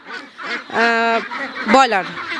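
Meat ducks being raised on broiler feed give loud nasal quacks and honks close by, several calls in a row with a drawn-out call in the middle.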